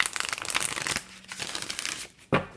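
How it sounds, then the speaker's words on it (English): A deck of tarot cards is shuffled during a reading: two close, papery riffling bursts, then a short pause and one final quick flutter of cards. "I'm going to shuffle one more time."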